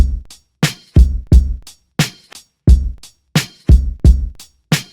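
A sparse hip-hop drum pattern of kick, snare and hi-hat with a loose MPC-style swing: punchy, evenly spaced hits with quick decays and silence between them, played alone.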